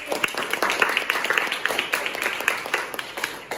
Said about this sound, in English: Good job, give applause